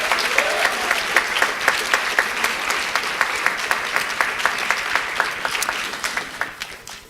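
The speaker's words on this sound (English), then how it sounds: "another round of applause for our John F." Audience applause at a formal awards ceremony honoring service award winners, steady dense clapping from a large crowd that holds throughout and tapers off near the end.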